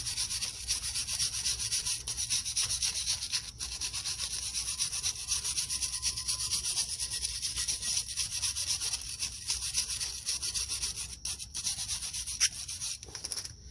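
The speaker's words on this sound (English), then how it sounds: "I'm gonna wire brush it." Wire brush scrubbing the hardware on a front brake caliper of a 2016 Chrysler Town and Country, a steady, close, continuous rasping scrape with brief pauses and no talk.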